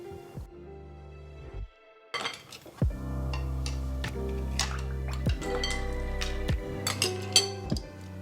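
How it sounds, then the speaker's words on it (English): Ice cubes tumbling into a plastic cup while making mango fruit bubble tea, several distinct clinks and rattles in quick bursts, close and fairly clear with no talking. "Then add some ice up to this line."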